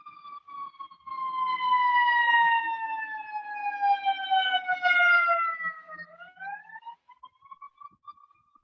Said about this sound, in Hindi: ये आपको देखो वापस सायरन का आवाज आ रहा है, अभी ये एम्बुलेंस है।